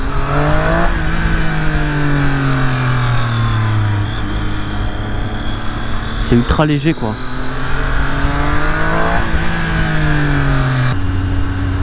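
A 2018 Triumph Street Triple 765 R sport motorcycle engine roars loud and close, its revs rising and falling repeatedly, while someone talks over it.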